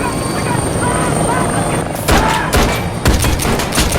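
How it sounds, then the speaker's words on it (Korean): A helicopter arrives for an escape in a Japanese drama scene, its rotor drone steady and loud, then broken by sharp bursts that sound like gunfire in the second half, with speech-like sounds mixed in. "키아라가 준비한 진짜 계획은 헬기를 타고 탈출하는 것"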